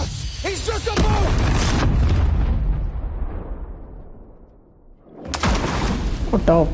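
Explosion in the video game Maneater as a boat is blown up, a loud deep boom that rumbles and fades over several seconds before a second burst of blast and debris noise, with someone talking at the start.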